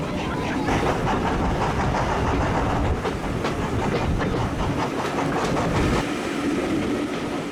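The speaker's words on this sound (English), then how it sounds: "our next train arrives, led by engine 7812, to take us to Richmond" Steam train led by engine 7812 pulls in on the Severn Valley Railway during a winter gala, with loud continuous rumble and rhythmic clickety-clack of wheels close by.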